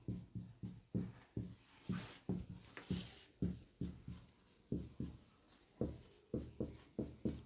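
Pen strokes on paper or a board during a Hindi lesson, a steady series of short, close scratching taps in a quick uneven rhythm, heard alone without talk.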